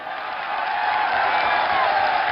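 Dense, continuous applause and crowd noise at a Thingyan water festival concert in Myanmar, steady and full with occasional whoops.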